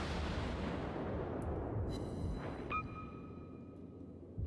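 Ship guns fire in a naval battle in World of Warships, a deep booming blast that rumbles and slowly fades, followed by a thin ringing tone, with no talking.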